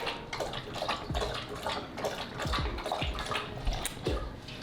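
A pet laps water in quick repeated splashy licks with a steady rhythm, close and moderately loud, with no one speaking.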